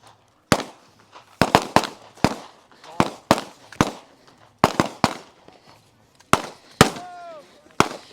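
Gunfire rings out across an elite-team stage of a shooting competition: loud, sharp reports come singly and in quick pairs at irregular intervals, each trailing a brief echo.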